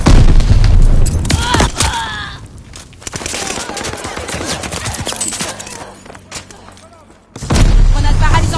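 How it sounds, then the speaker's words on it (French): A sticky bomb detonates in a video game shootout, with a loud heavy boom at the start and another at the end, scattered gunfire and crackle in between, and a quieter lull before the final blast. "J'envoie une bombe collante."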